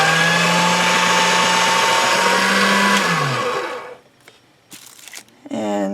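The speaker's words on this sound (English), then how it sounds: "Let me run this through the pasta machine so it'll fit this cane." Polymer clay is fed through a pasta machine, giving a loud, steady mechanical whir with a low hum for about three seconds. The whir then winds down and stops, leaving a few faint clicks and handling noises.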